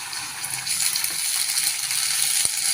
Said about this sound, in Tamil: இஞ்சி பூண்டோட பச்சை வாசனையும் போயிடும். வெங்காயமும் நல்லா வதங்கிடுங்க. 1 நிமிஷம் நல்லா வதக்கி விட்டுக்கலாம்.